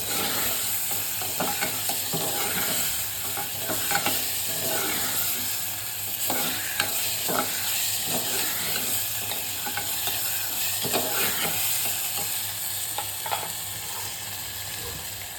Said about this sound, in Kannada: ಚೆನ್ನಾಗಿದು ಟೊಮೆಟೊನ ಇರೋಂಥ ಎಲ್ಲ ಎಣ್ಣೆಗೆ ರಸ ಬಿಟ್ಟು ಕೆಂಪಗೆ ಹಿಂಗೆ ರಸ ಬರೋ ಮಟ್ಟ, ಎಣ್ಣೆ ಬಿಡೋ ಮಟ್ಟ ಚೆಂದಂಗೆ ಫ್ರೈ ಮಾಡ್ಕೊರಿ